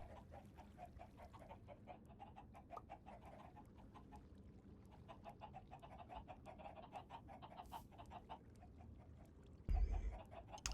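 Chickens clucking in Minecraft, a run of quick rhythmic clucks and chirps that carries on for several seconds over a soft background hum, ending with a louder short thump, and no one talking.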